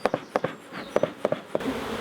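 Honey bees buzz around an open hive during a honey harvest, close by in a series of short, sharp pulses and zips that end in a softer hum.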